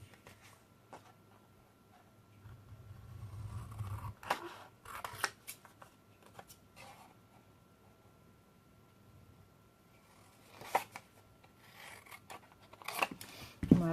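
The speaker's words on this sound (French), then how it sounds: "Donc ça, je vais le découper. Je vais peut-être prendre le grand ciseau." Large scissors snip through scrapbooking paper in scattered bursts of crisp cuts, with quiet rustling and handling between them.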